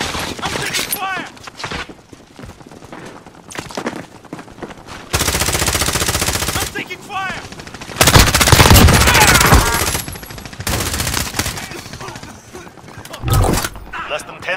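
Heavy bursts of automatic gunfire from a Call of Duty Warzone match, with loud sustained volleys around the middle and later in the clip and softer scattered shots and game noise between them. Voices talk over parts of it.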